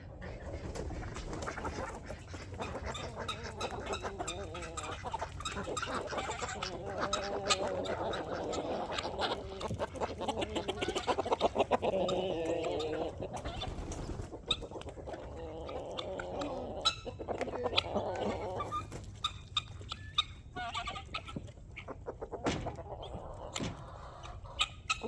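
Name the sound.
chickens clucking at feeding time on a farm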